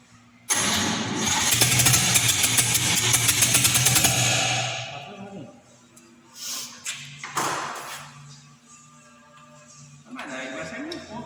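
A rebuilt six-cylinder 261 engine cranks and fires on its first start, roaring loudly for a few seconds before shutting off, followed by bursts of short revs with people talking nearby.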